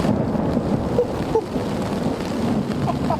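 Thunder rumbling through a storm while rain patters steadily on a lake shore campsite, low rolling booms under a constant wash of rainfall, fairly close, no voices.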